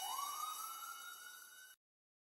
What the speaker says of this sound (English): Look, there's a fire engine.